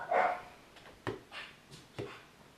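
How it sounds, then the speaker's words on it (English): A dog barks several times in short, separate bursts, fairly faint and somewhat distant, with brief pauses between barks. "The cats are fighting, the dog is barking."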